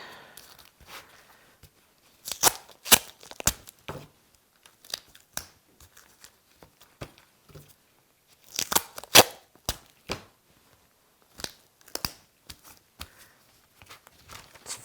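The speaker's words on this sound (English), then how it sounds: "take and tape this to the back. Let's see if I can tape this with gloves on." Tape is pulled off the roll and torn in short, sharp ripping bursts separated by quiet pauses. The sounds are close and crisp, from someone working with gloves on, taping the back of a yarn painting.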